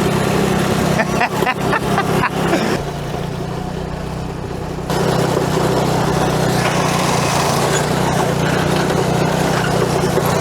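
A small go-kart engine drones loudly during a slow top speed run uphill, its buzzing note dipping briefly partway through before picking back up, with some voices mixed in.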